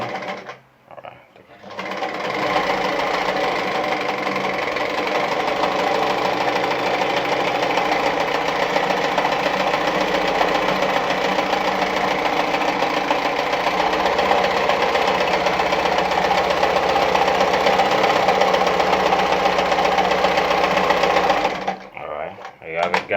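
Adlerina 240A sewing machine stitching a tight, short-length zigzag, a loud steady mechanical whir running nonstop for about twenty seconds, starting and stopping abruptly.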